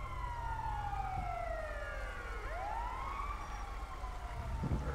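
A wailing ambulance siren from GTA V, responding code 3, sweeps up and down in long glides over steady road rumble, loud and close without speech.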